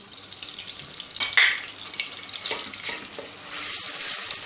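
Tomato paste frying in oil with garlic for a Turkish soup, giving a steady close sizzle with a few stirring scrapes and a louder burst near the start, with no voices.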